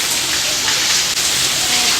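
Heavy rain pours down steadily, a dense, loud, unbroken hiss of falling water with no distinct voices.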